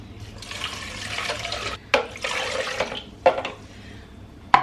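Water pours from a tap in splashing bursts over cashews being rinsed, interrupted by a few sharp clinks and knocks, close by.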